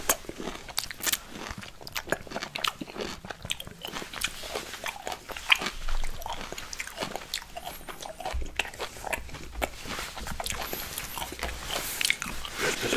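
Crisp bites and wet crunching chews on a candied honey lemon slice sound close and quiet, repeating irregularly without talk.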